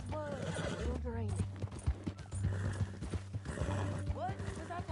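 Horse hooves clip-clop steadily with a whinny in Red Dead Redemption 2, close and clear under game music, with someone talking over it.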